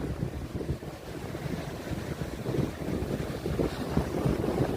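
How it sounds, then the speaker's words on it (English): Gusty wind sweeps across Ogwen Beach on a windy morning by the sea, a steady, loud rushing roar that buffets the microphone throughout with no break. "It's a bit windy, as you can see by on the sea."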